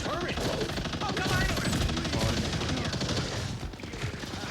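Rapid gunfire fills a Marvel Rivals match, dense bursts of automatic shots and impacts layered over game effects, loud and continuous throughout.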